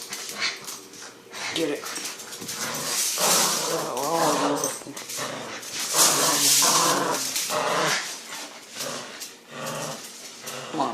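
A dog called Piper whimpers and growls while being dragged along on a walk, the dog sounds mixed with a person's encouraging talk and shuffling throughout.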